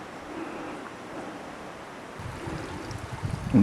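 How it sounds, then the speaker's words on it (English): A mountain brook flows beside a hiking trail on Camel's Hump, a steady, moderately loud watery rush with some low wind buffeting and a thump near the end. "here the brook is right next to the trail"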